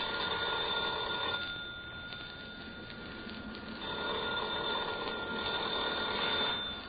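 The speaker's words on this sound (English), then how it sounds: "Are you going to answer the phone?" A telephone bell rings in a radio drama, repeated trilling bursts separated by short pauses, clear and mid-distance, with no talking over it.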